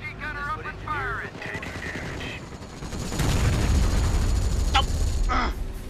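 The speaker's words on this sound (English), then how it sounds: "MG gunner up and firing" Machine gun fire in Company of Heroes: Europe at War rattles in sustained bursts that grow louder and denser midway, under game voice lines and battlefield chatter.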